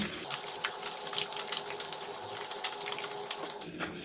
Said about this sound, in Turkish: Burada bir su bardağı suyumuz var. Suyumu da yarısını ekleyeceğim.